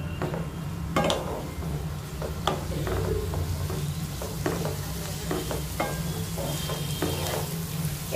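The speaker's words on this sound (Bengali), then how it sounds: "এবার চিলি বেল পেপারগুলো এর মধ্যে দিয়ে দেব। এবার আস্তে আস্তে সবকটা একটু হালকা হালকা করে ভেজে নেব।" Chilies and bell peppers frying in a pan for Ema Datshi make a continuous loud sizzle. Repeated scraping and stirring clacks from a utensil sound close by.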